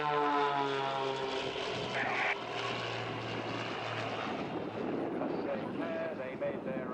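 A Matadors aerobatic propeller plane drones through a display at the Southport Air Show, a steady, moderately distant engine tone that shifts in pitch as it passes, under commentary.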